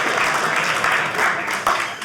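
Burst of audience clapping at a stand-up comedy show, steady and fairly close, with some voices underneath.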